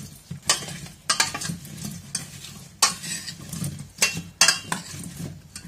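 Seasoned potatoes being stirred in a bowl for a roast pork knuckle: a spoon scrapes and clatters in several sharp, irregular strokes with a soft, wet shuffling of the potato pieces between, close up and without speech.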